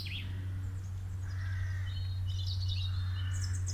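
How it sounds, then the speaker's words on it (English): Soft, scattered birdsong and chirps at sunrise, played back as quadraphonic audio in a garden, drift over a steady low hum, with several birds calling at moderate distance. "It's quadraphonic audio playing, and it's of birdsong at sunrise, mingling in with the real sounds of the garden"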